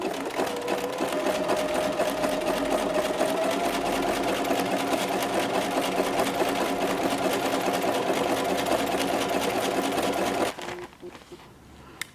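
A sewing machine fitted with a walking foot stitches knit fabric in one continuous, even whir of rapid needle strokes. It stops abruptly near the end, leaving a quieter tail.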